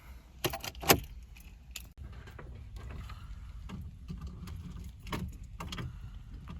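Keys jangle and turn in the ignition of a Ford Escort Ghia Cabriolet, with a couple of sharp metallic clinks near the start, then a low steady hum and a few soft clicks.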